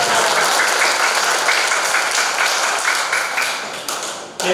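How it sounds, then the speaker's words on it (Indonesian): Seminar attendees applaud with a dense burst of clapping that stays loud, then fades toward the end. "Luar biasa. Tepuk tangan teman-teman."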